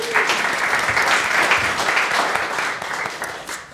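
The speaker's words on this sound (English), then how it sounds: "Nice round of applause for all of you." Sustained audience applause at a story slam event, a dense wash of many hands clapping steadily at fairly loud level for the whole stretch, easing slightly toward the end.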